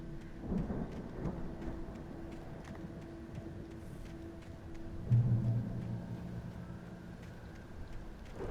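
Thunder rumbles through steady rain in the Alan Wake Remastered video game, with a heavy low crack around the middle swelling briefly above the constant downpour.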